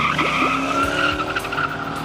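An El Camino fitted with a new Gearstar 4L60E transmission and a yank converter does a one-wheel peel, its tire squealing loudly and continuously under engine roar, close by.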